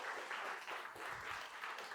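Audience applause fills the room, steady crowd clapping holding at an even level for a couple of seconds with no voices over it.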